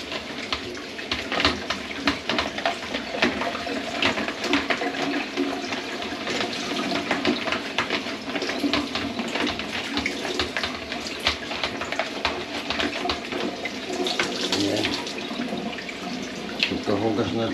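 Running tap water in a sink while something is washed, a steady close hiss and splash lasting the whole clip, with light clatter and a voice speaking faintly underneath.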